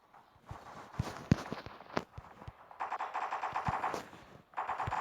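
Gunfire from the mobile shooter game Block Strike: scattered single shots followed by rapid automatic bursts with quick repeated cracks, fairly close and alone without talk.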